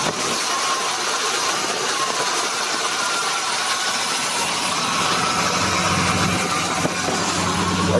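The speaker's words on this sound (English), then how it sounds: "I kind of got it idled up high" A 1976 GMC Sprint engine, long stored in a barn, runs at a high idle with a steady, loud, close drone and a faint rattle throughout, no voices.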